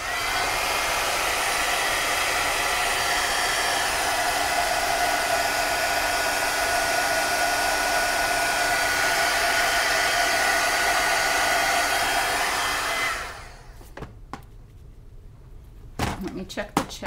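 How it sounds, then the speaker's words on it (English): Hair dryer drying a stamped art page, a loud, steady, close blowing roar for about thirteen seconds, then clicking off, followed by a few soft handling knocks. "let me give this a quick dry because I did stamp right here"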